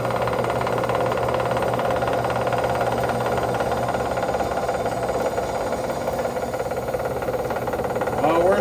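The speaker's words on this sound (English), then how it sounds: "Man, that cuts the aluminum nice." A machine cuts aluminum in a workshop, giving a steady, loud grinding and whirring drone that runs unbroken for the whole stretch with no pauses.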